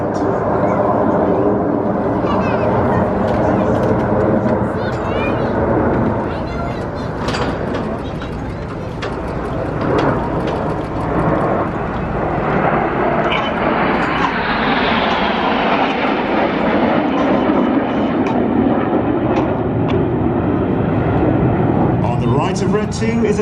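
RAF Red Arrows jets fly a formation loop at a New York air show, a loud continuous roar that swells and sweeps in pitch as the formation passes overhead.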